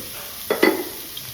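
Sliced onions with a pinch of salt dropped into a hot pan for a chicken stew, giving two quick bursts of sizzle and stirring over a faint steady hiss.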